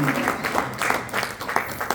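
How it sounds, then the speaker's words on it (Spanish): A church congregation claps in uneven bursts under a voice speaking over them, the applause moderately loud and close, rising and falling in waves. "Dele ofrenda de palmas a Jesús."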